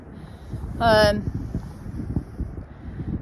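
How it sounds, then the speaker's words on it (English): Wind blowing across an open field in pitch darkness, a steady low rumbling buffet against the microphone, with a brief tonal burst of sound partway through and faint rustling throughout. "This wind's not actually that bad."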